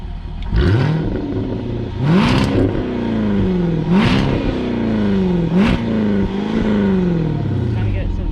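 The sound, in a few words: sports car exhaust revving in loud mode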